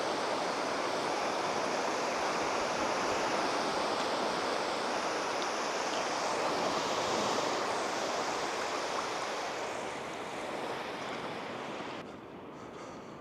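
Ocean surf breaks steadily on a long, empty beach on a warm day in Wales, a continuous broadband roar of waves that stays loud and close throughout, easing slightly near the end, with no voices.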